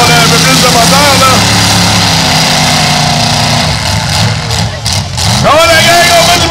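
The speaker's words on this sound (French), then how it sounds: "Oh, on a un peu plus de moteur là." Demolition derby cars with 8-cylinder engines rev and rumble loudly at close range, the pitch swelling and dipping while an announcer talks over the engines and the crowd.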